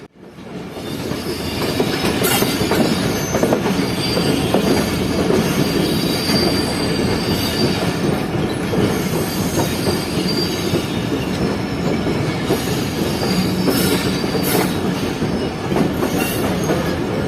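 The Sukkur Express overnight passenger train rolls steadily along the tracks between Jacobabad and Sukkur, Pakistan, with a continuous rumbling roar, rattling carriages and occasional high wheel squeals, loud and close throughout.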